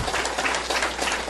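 An audience at a business presentation applauds, a dense, continuous wash of many hands clapping at once, steady and moderately loud with no voices on top.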